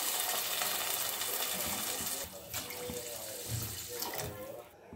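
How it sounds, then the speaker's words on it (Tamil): Water pours into a pan of sautéed ingredients for wheat rava upma, a continuous gushing splash that shifts in tone as the pan fills, close and moderately loud. "இப்போ தண்ணி சேர்த்திடலாம்"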